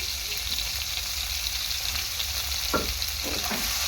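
Grated ginger frying in oil in a pan for an aloo paneer curry, a constant soft sizzle with a few brief stirring scrapes near the end, no talk.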